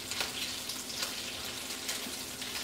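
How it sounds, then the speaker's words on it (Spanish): Pork rinds bubble and sizzle in hot fat in a pot, a steady dense crackle with soft pops throughout, close and moderately loud with no talking. "ahorita sí ya estamos friendo porque ya se coció"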